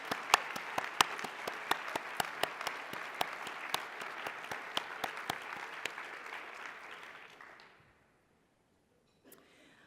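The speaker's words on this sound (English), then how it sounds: "let's give them a round of applause." An audience at an awards luncheon claps for award recipients, a steady, moderately loud round of applause with sharp individual claps that fades out after about seven seconds into near silence.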